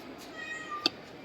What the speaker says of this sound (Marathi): बघ आता ह्याला इथं एक कॅट आहे बघा